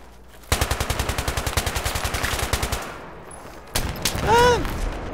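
Rapid automatic gunfire from a FAMAS or L85A2 rifle in Battlefield 3 on PC, a loud even burst of about two dozen shots, then a short pause and another burst with a rising whistling effect.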